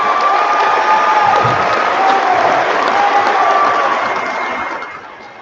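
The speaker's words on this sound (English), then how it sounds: "let's give your teachers a great big round of applause for getting you here." A graduation-ceremony audience applauds and cheers for the teachers, a steady, loud wash of clapping and shouts that fades slightly toward the end.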